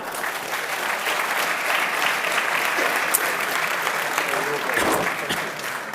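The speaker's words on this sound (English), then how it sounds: "Please applaud Joseph O'Brien" Loud, dense audience applause at a horse racing festival preview event, a thick steady wash of clapping holding evenly throughout with faint voices mixed in.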